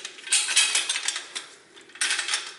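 A bolt on the crankshaft pulley of a 1990–2002 Toyota Corolla is turned with a wrench during water pump replacement, giving a run of close metallic clicks and scraping, two louder bursts separated by a quieter stretch, with no talk.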